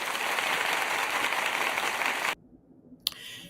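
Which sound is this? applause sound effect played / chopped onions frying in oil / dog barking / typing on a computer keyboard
applause sound effect played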